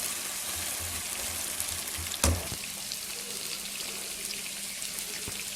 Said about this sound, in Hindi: ये हमने 10-1 मिनट इसको फ्राई करना है ताकि गोश्त हमारा ठीक गल जाए।